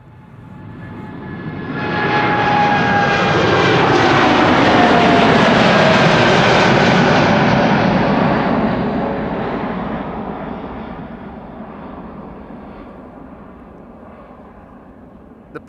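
Nearly empty KLM airliner taking off from Amsterdam Schiphol on a relocation flight to Shannon, rotating early and climbing steeply: jet roar swells as it passes close, with whining tones sliding downward, then fades gradually into the distance.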